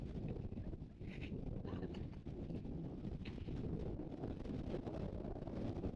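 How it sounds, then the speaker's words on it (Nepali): Strong gusty wind buffets the microphone at Tikadhara on a mountain trek, a heavy low rumble that stays loud and unbroken for the whole stretch. No one speaks. "क्रेजी हावा लागिरहेको छ गाइस अहिले यता"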